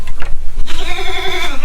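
Goats in a farm shed bleat close by, a short wavering call rising clearly over a low background rumble.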